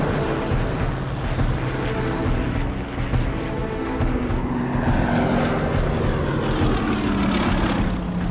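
Battle of Britain era RAF fighter aircraft scramble to protect a convoy, a loud, continuous propeller engine roar with a droning pitch that slowly shifts, heard alone without talk.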